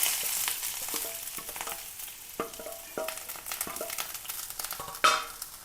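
Crushed shallots, garlic and green chillies fry in hot oil for a beef and koorka dish, giving a steady, fairly quiet sizzle broken by occasional spoon clicks and stirring scrapes, with one louder clatter near the end.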